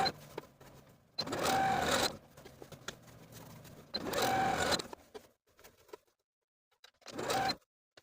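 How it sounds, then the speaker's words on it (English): A sewing machine running a blind hem stitch with a blind hem foot on a shift dress sleeve, in three short close bursts separated by quiet pauses with faint clicks. "use the blind hem foot and your blind hem stitch to stitch in place"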